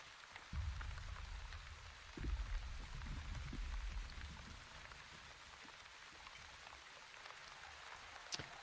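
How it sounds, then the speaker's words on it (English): Steady rain patters on surfaces in the colony-building video game The Wandering Village, a soft continuous hiss of drops with a low rumbling layer early on, fairly faint and heard alone without talk. "Oh, yes, rain."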